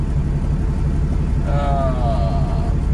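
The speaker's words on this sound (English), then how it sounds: "there's a lot of traffic." Heavy road traffic drones in a continuous low rumble, with a vehicle's engine note rising briefly partway through, heard from nearby with no voices.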